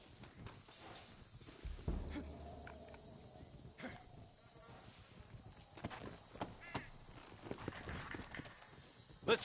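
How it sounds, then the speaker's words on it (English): Horse hooves clip-clopping in the video game Red Dead Redemption during an escape from Fort Mercer toward Mexico, a steady moderate rhythm amid game ambience with crows cawing and a brief burst of sound near the start. "Looks like Carlos left us some horses."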